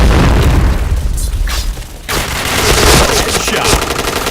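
A grenade blast in a shooter video game, a loud booming burst near the start that falls away around the two-second mark, followed by more heavy booms and gunfire-like rattle throughout, with a voice calling out briefly.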